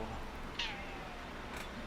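A cat gives a short meow, fairly faint, against steady background noise, with a second brief cry near the end.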